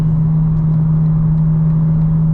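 Engine of a 900 hp 2025 BMW M4 Competition xDrive while driving: a steady, loud low drone with a strong constant hum and road rumble, continuous and even with no voices.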